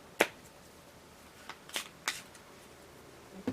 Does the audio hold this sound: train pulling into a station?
no